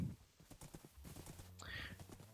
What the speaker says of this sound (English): I have realised this is an incredibly slow horse.